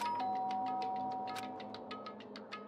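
A synthetic doorbell chime in the video game Danganronpa: Trigger Happy Havoc rings once with a sustained tone, followed by a series of light, evenly spaced ticking clicks.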